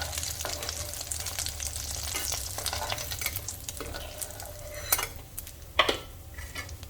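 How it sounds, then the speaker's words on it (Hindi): Taro root pieces crackle in hot oil during a second frying, a dense close sizzle with occasional metal utensil clinks and scrapes against the pan, fading somewhat toward the end. "पूरे इसी तरह से हमें डबल फ्राई कर लेने हैं"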